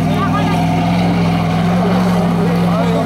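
A 4x4 engine strains off-road during a group trail drive, a loud steady drone with little change in pitch, while people talk over it.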